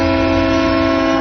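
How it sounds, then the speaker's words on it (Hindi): A train whistle sounds in a Hindi film scene as one loud, steady, sustained tone that holds unbroken through the whole moment. "ट्रेन की सीटी"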